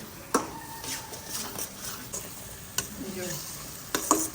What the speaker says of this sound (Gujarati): ઇલાયચી પાવડર અને ડ્રાયફ્રૂટ્સને હવે સારી રીતે મિક્સ કરી દઈશું